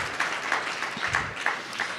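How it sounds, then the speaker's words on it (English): A modest audience at an entrepreneur week pitch event applauds sponsors, giving quiet, sparse clapping with a few distinct claps standing out from a soft background wash. "Give them a round of applause."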